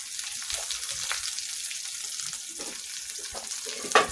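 Onions frying in oil in a pan, a continuous close sizzle with soft stirring and a sharp clink at the very end, no speech.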